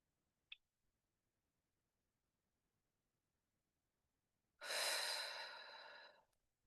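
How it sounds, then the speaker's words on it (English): Guided meditation breathing: one long, deep, audible exhale rushes out near the mic for about two seconds after a stretch of near silence, preceded by a brief faint tick. "Another deep breath in."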